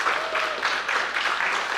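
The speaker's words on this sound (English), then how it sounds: "Can we just get a round of applause for all the people that couldn't be here today" An audience applauds steadily at a Digital Domain presentation on Mari texturing work for Netflix's The Electric State, a dense wash of many hands clapping for just under two seconds with no talk over it.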